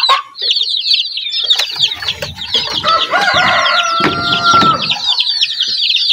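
Month-old native farm chicks and hens on a Filipino backyard farm, a busy close chorus of high peeping and clucking, with a rooster crowing through the middle.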